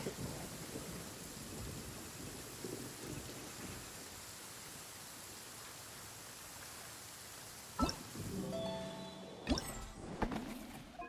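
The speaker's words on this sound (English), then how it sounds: "I love listening to the rain from the courtyard" Steady rain and a low rolling thunder rumble fill a Genshin Impact courtyard scene. Sharper thunder cracks and crashes break out near the end, with no talk.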